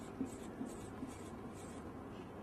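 A pen writes by hand, probably on paper, while figures for a bond calculation are noted down: faint, close scratching with three small tapping strokes in a quiet room.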